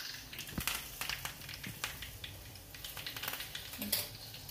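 Mustard seeds, cumin, asafoetida, turmeric and chopped curry leaves crackling in hot oil for a sambar tempering, a steady low sizzle broken by scattered sharp pops and crackles.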